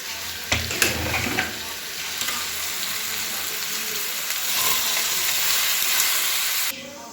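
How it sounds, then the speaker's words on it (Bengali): Soaked moong and chana dal hit hot oil in a kadhai, setting off a loud, steady, crackling sizzle that holds for several seconds, with a few clinks from stirring near the start and a sudden drop at the end. "ভিজিয়ে রাখা হয়েছিল এটাকে এবার আমি এই তেলের মধ্যে দিয়ে দেবো"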